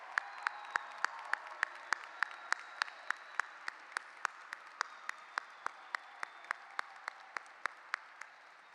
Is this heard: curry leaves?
no